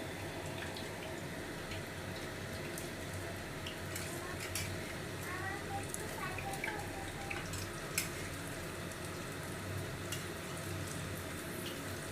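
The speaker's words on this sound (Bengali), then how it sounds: "এবার আমি একে একে বড়াগুলো ভেজে ফেলব বাঁধাকপির বড়া" Cabbage pakora fritters fry in refined oil in a kadai with a soft, continuous sizzle and occasional light clicks from the pan, quiet and steady throughout with no voices.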